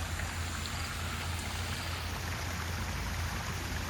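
A small waterfall spills from a garden water wheel into a lily pond, making a continuous soft splashing rush at moderate distance with no voices.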